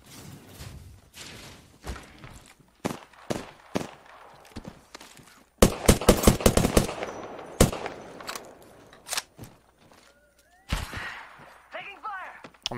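Gunfire in the battle royale game Apex Legends: sharp separate shots and short automatic bursts, some loud and close, some fainter, spread irregularly between quieter gaps, with a voice heard briefly near the end.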